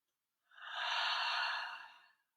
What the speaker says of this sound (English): Take in about one more round of breath.